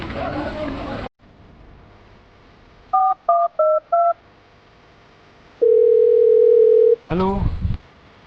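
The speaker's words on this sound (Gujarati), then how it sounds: "હાલ જ ફોન કરું" A telephone is dialled in a Gujarati comedy sketch: four short keypad beeps in quick succession, then a longer steady tone. Noisy voices come just before and right after.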